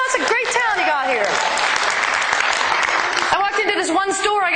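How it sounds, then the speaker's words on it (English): A comedy club audience bursts into loud, sustained applause and cheering lasting several seconds, with a comedian's voice heard at the start and end. "Give yourselves a round of applause."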